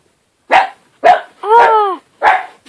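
A dog barks four times at close range in an indoor home setting, three short sharp woofs and one longer drawn-out bark, loud and clear with no talking over it.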